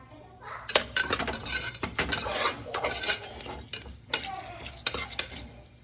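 Whole spices, a bay leaf, fennel seeds, cloves, cardamom and a cinnamon stick, are stirred in a pan with sharp, repeated clinks and scrapes of a metal spoon over a faint background sizzle.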